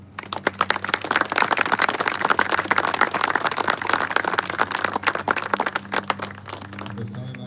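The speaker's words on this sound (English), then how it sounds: "Please join me in giving them a round of applause" Sustained applause from a large audience at a Marine Corps infantry training battalion graduation, dense clapping running steadily throughout with a low hum beneath and a faint voice near the end.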